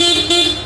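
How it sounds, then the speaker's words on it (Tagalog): A brief, steady electric horn beep from an aftermarket horn fitted to a Honda Click motor scooter, one short continuous tone sounding close and loud. "Aftermarket na yung horn."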